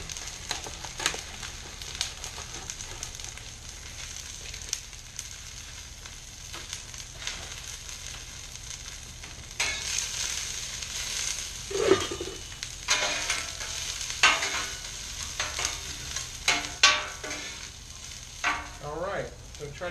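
Thin Steak-umm beef slices sizzle on a smoking-hot griddle for a Philly cheesesteak, a steady crackling hiss that swells in the second half with sharper pops and bursts of spatter, no talking over it.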